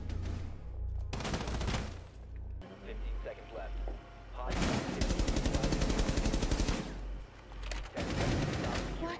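Rapid automatic gunfire from a Rainbow Six Siege match comes in several loud bursts of quick shots separated by short gaps, mixed with game sounds and talk.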